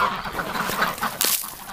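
Ducks quack and chatter close by in a busy, continuous flurry of calls, with one louder, brighter squawk near the end.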